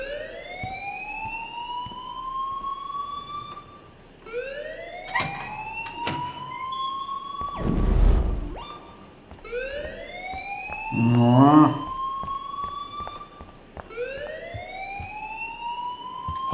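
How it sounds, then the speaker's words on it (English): Wailing alarm siren in the video game Life is Strange, repeated rising sweeps looping over about sixteen seconds, loud and close, interrupted midway by a brief thud and a burst of other electronic tones. "please turn off that alarm since that's your job"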